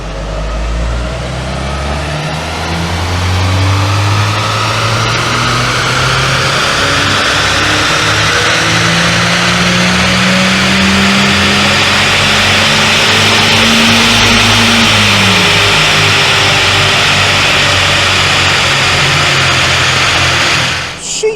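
A loud Mazda 3 Sport 2.0 hatchback engine, neglected, revs hard on a dyno, steadily climbing in pitch for a long stretch, then dropping off abruptly at the end; no talking.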